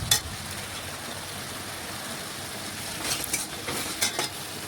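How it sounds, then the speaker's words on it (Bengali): Spice masala being stir-fried in a pan, a steady close sizzle hissing throughout with a few brief scraping stirs near the end, no talk. "এখন ভালোভাবে একটু কষিয়ে নিচ্ছি।"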